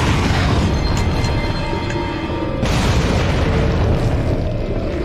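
A grenade blast in the Resident Evil 4 video game, a loud sustained booming rumble that continues through the whole stretch with a sharp shift midway, dense and close with no talk over it.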